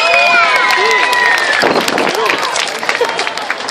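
Spectators at a costumed dog contest in a shopping plaza applaud and cheer, a mix of claps and crowd noise rising after a brief stretch of whistling or squeaky tones, with voices chattering over it.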